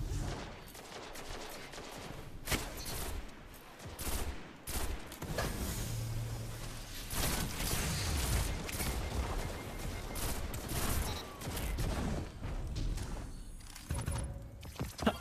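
Rapid bursts of gunfire from Destiny's Trials of Osiris fill the scene, dense overlapping shots and fusillades crackling loudly throughout with brief gaps, close and sustained.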